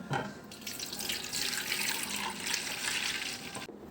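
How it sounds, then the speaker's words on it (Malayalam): Strained coconut milk, squeezed from grated coconut for homemade virgin coconut oil, pours back into a vessel in a steady, close splashing stream that cuts off abruptly near the end. "അങ്ങനെ അരിച്ച് വെച്ചത് വീണ്ടും ഇതിലേക്ക് തന്നെ ഒഴിക്കാം"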